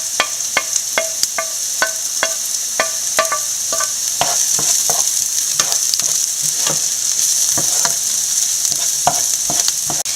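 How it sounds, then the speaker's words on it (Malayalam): Onion, ginger, garlic and curry leaves fry in a pan with a constant bright sizzle, punctuated by a steady series of sharp spatula clicks and scrapes as the mix is stirred. "ഇഞ്ചിയും വെളുത്തുള്ളിയും കറിവേപ്പിലയും കൂടി ഇട്ട് കൊടുക്കാം"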